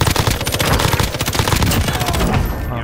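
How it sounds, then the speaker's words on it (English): Sustained automatic gunfire in Call of Duty: Warzone, loud, fast machine-gun bursts packed tightly together, fading slightly at the very end. "They're just shooting me now."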